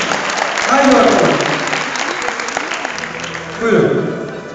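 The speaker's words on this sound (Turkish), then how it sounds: "Hadi daha kuvvetli, daha güçlü alkışlar bekliyoruz arkadaşlar." Audience applause at a Turkish show before a song, a dense, fairly loud crowd clatter running throughout while someone talks over it at the start and end.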